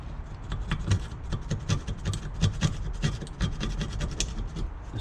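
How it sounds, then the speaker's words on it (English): Old gasket material is scraped off a Yamaha YZ85 engine case during a bottom-end rebuild, giving steady, close rasping and scratching strokes that repeat continuously with no talk. "what we're going to do now is we're going to scrape some of this gasket out of here."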